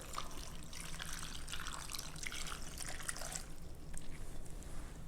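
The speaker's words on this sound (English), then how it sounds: "I'm going to pour this all over the cucumbers and the onions" Vinegar dressing is poured over sliced cucumbers and onions, making a soft, continuous trickle and splash. It is quiet and steady, with no talking.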